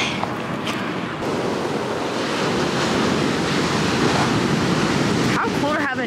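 Ocean waves roll and wash onto a San Francisco beach in a continuous loud roar, mixed with buffeting wind noise on the microphone, and nobody speaks.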